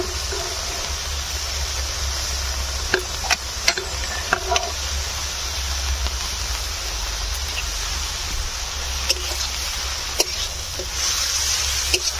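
Chopped cabbage and carrot frying in a pan as a veg momo filling, a steady close hiss of sizzling that runs throughout with a few sharp ticks of the spatula against the pan.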